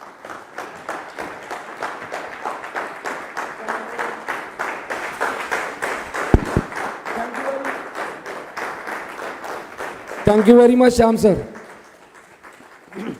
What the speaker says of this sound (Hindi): इतनी तालियां